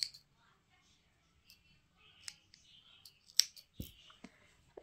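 Scissors snip through red yarn during two-needle knitting of seamless baby booties, a few quiet, sharp clicks and cuts close by against a nearly silent background.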